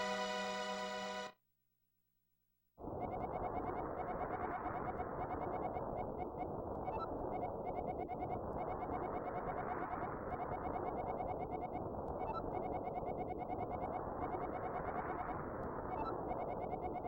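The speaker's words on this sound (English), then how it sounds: "That bird is a jerk." Retro synthesized bird calls from the video game The Legend of Zelda: A Link to the Past. A short tone and a brief silence give way to a chirping bird sound that swells and fades in repeating waves about every three seconds.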